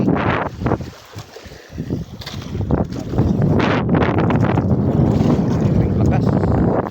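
Strong north wind at sea buffets the microphone aboard a small fishing boat at night, a loud, continuous roaring rush with gusty surges, mixed with water noise and brief talk.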